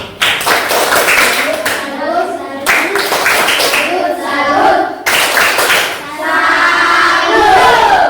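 A primary school class claps in quick rhythmic bursts, several patterned rounds of many hands together, loud and close, with children's voices chanting along.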